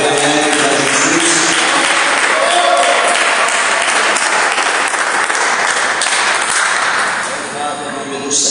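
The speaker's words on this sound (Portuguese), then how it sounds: "Quem pode dar uma salva de palmas bem alegre para Jesus?" A church congregation applauds at an evening service, steady dense clapping filling the room for several seconds before easing slightly at the end, with voices mixed in.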